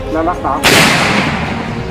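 A single heavy artillery gun blast booms out after a short spoken Thai firing command, its roar rumbling and fading for a second or two.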